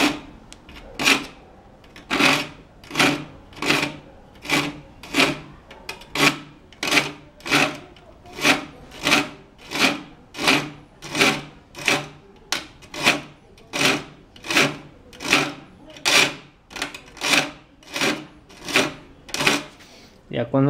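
A file sharpens the teeth of a handsaw in long, steady rasping strokes, about twenty-five evenly spaced scrapes repeating at a regular rhythm, close and fairly loud.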